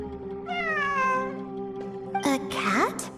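A cat meows in a ruins exploration video game: one long, drawn-out meow, then a couple of shorter, higher meows close together near the end, close and clear.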